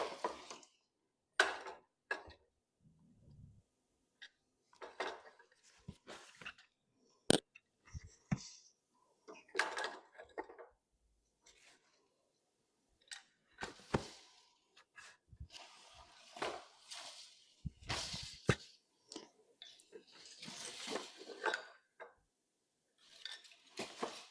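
Treadles pressed on a weaving loom produce sparse, irregular wooden clacks and knocks, some sharp and some dull, scattered across near-silence.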